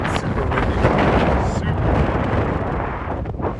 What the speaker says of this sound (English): So super windy